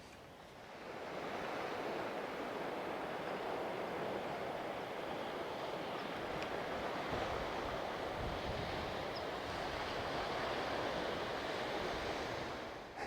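Waves wash onto a secluded beach bay as the tide goes out, a steady broad rush of surf mixed with wind noise on the microphone. It holds constant for the whole stretch, with no voices.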